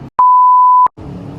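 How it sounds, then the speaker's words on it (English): A single steady electronic censor bleep, a pure tone lasting under a second, loud and clean between short stretches of background noise. "just bleep it out"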